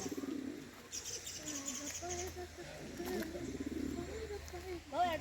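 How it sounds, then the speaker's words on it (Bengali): Pigeons cooing at Khecheopalri Lake in Pelling, Sikkim, low repeated coos and faint chirps under steady outdoor background noise, with people talking nearby. "আর এখানে পায়রা।"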